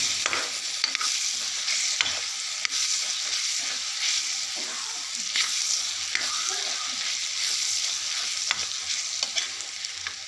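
Mushrooms and tomato masala stirred in a kadhai at a dhaba-style stove, a steady close hiss of frying with repeated scraping strokes of the spoon running throughout, no voices.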